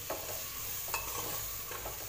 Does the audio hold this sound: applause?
no